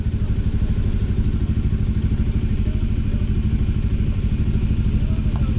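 A small motorcycle engine running steadily and loud from up close, its fast, even pulsing throb unbroken while the bike rides along on a long road trip.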